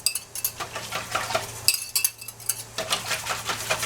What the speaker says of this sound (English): thoroughly whisk everything in.